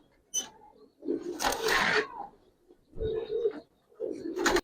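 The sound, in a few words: giribaz pigeon cooing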